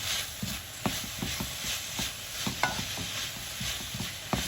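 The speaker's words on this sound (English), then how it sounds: "So just split them up and then make sure you keep stirring those." Vegetables for a salmon noodle stir fry are stirred in a hot pan, with rhythmic utensil scrapes and taps over a low steady sizzle, close up and fairly quiet, no voices.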